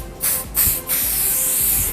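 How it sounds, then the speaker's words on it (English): Several short bursts of aerosol hair spray hiss close by, the last one longer and steadier, with no talking. "add some spray"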